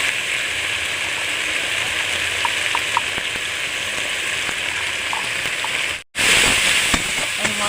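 Spice masala with salt and turmeric fries in a pan for a cauliflower and potato curry, giving a steady, close hissing sizzle that breaks off for a brief moment near the end before resuming.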